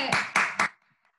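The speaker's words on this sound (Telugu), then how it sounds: "విద్యాసాగర్ కోసం మళ్ళీ ఇంకొకసారి గట్టిగా క్లాప్స్ కొడదామా" Children clapping for Vidyasagar in a children's club, three quick sharp claps in a row, then a faint tap as it goes quiet.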